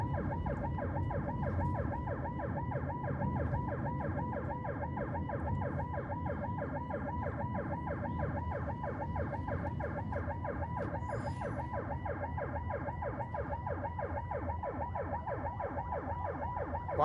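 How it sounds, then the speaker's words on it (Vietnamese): An ambulance siren wails on and on in congested city traffic, a steady, loud, fast-cycling electronic yelp heard nearby over low road rumble for the whole stretch, with no voices. "Phía trước mình cũng có một chiếc xe cấp cứu chuyển bệnh đó các bạn."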